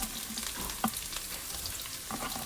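Chopped garlic, green chili and carrot stir-fry in oil over a high flame, making a close, crackling sizzle. Quick spatula scrapes and stirring taps run through it briefly, with no talk.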